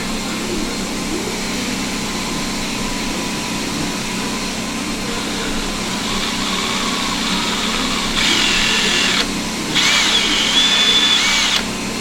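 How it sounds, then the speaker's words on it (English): A reamer is run through a trigger plate part of a Shiloh Sharps rifle action. It makes a steady, close whirring hum throughout, with two short, brighter high-pitched spinning bursts near the end. "Just running a reamer through it real quick."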